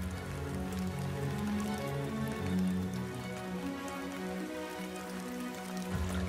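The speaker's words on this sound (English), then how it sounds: "Rain falls incessantly throughout the Amazon's wet season" Heavy rain pours steadily over the Amazon rainforest in the wet season, a dense, constant hiss of drops on foliage with no pauses, layered over a faint low hum and occasional louder splashes.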